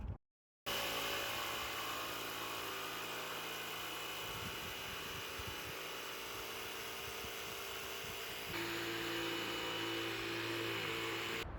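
A jigsaw runs steadily and loudly for about eleven seconds, a continuous motor whine with buzzing, while cutting material for a tow-hitch poop bag box for a car.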